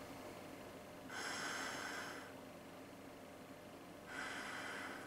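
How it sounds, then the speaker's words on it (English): Two slow nasal breaths through a respirator gas mask with a filter, each a hissing airy inhale lasting about a second, separated by quiet, close to the mic and otherwise still. "I'm breathing through my nose and I'm having absolutely no problem breathing"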